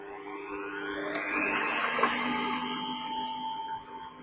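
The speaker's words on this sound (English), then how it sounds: "I'm going to put this mixer on while she's microwaving anyways" An electric stand mixer whisks with a steady motorized hum and a high whine, running continuously at moderate volume throughout.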